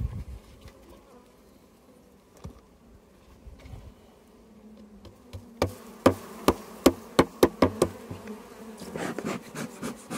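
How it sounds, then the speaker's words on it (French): Honey bees buzz around an opened beehive during a spring inspection, a low continuous hum mixed with sharp knocking and tapping of hive frames and equipment, louder clustered knocks in the second half. "plein d'abeilles en tout cas."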